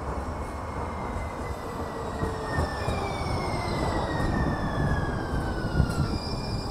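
A two-car Siemens light rail train on the N Judah line rolls inbound at 28th Avenue, a steady close rumble of wheels on track with faint squealing tones rising over several seconds, no voices.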